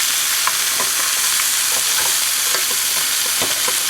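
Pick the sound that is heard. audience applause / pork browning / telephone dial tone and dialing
pork browning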